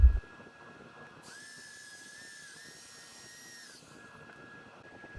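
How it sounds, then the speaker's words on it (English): A mulberry wood hollow form spins on a lathe while being sanded to fine grit, giving a steady high whine and soft hiss that runs for a few seconds, then fades out. "And then more sanding to 400 grit and applying more wax."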